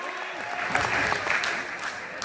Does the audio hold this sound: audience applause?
yes